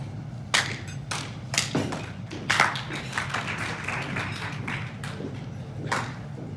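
A single hand clap rings out at a morning club meeting in a room, sharp and close, among several other knocks and taps over a low background hum.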